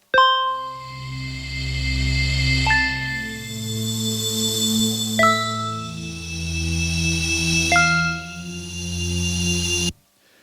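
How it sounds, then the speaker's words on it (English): Ableton Live instrument rack layering an African bars mallet preset with a chill out zone pad: four bright plucked bar notes struck about every two and a half seconds, each followed by a warm sustained pad swelling underneath, ending abruptly. "So we get the pluck of the African bars followed by the sustain"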